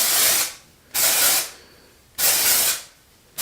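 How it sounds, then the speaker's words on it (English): Hair product sprayed onto the roots in three bursts of aerosol hiss, each about a second long, close and loud with short quiet gaps between. "So first I'm just going to spray this all over in my roots."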